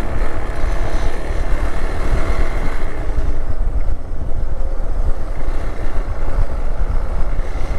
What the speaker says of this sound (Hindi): मेरी जो बाइक थी वो ललित चला रहा है और ललित की जो बाइक है वो मैं चला रहा हूँ।